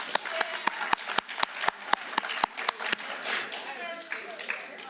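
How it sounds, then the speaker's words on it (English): Audience applause at a senior awards ceremony: a series of sharp, separate claps in a quick irregular rhythm, fading into softer scattered clapping and murmuring toward the end. "give yourselves a round of applause for making it here."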